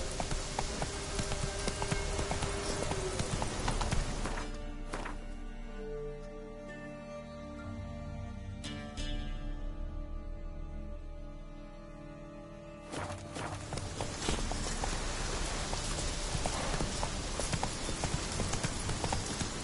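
Hooves clip-clop steadily as a horse runs, loud and continuous over a dense, noisy background for nearly twenty seconds. The rhythm briefly thins in the middle stretch before the full galloping clatter returns.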